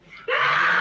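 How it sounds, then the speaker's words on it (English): Pained screaming played back from a livestream bursts in loudly after a brief quieter lead-in and holds as one sustained, strained cry. "Those screams we're hearing,"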